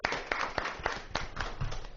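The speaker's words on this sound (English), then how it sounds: "Big clap for all." A small group of classroom students gives a short round of applause, a loose scatter of separate claps, fairly close and quiet, lasting about two seconds.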